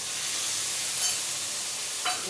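Water poured into masala frying with tomato puree gives a continuous close hiss and sizzle, fairly even throughout, with a couple of brief sharper bursts near the middle and end.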